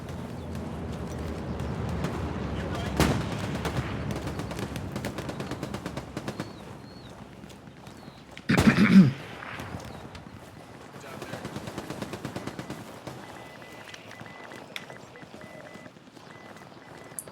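MG42 machine gun fire in a World War II shooter video game, rapid bursts rattling at a distance, with one loud close crack partway through and more bursts after it.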